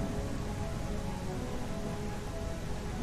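Heavy storm rain in the Primal Earth video game falls as a steady, even wash of hiss with a low rumbling undertone, unbroken and fairly close for the whole stretch.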